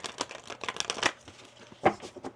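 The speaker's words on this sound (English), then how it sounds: "One more shuffle here." Tarot cards shuffled by hand, a run of quick soft riffling flicks and crisp slaps close up, with no talking.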